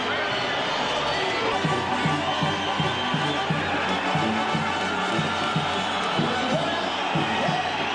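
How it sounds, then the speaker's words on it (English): Boxing arena crowd roaring and applauding as the featherweight champion Barrera enters the ring, a dense, continuous wall of cheering with music pumping underneath and steady loudness throughout. "And a very good applause indeed for Barrera as he enters the ring."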